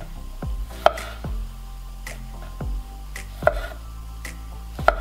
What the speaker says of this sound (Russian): остались только помидорки нарезать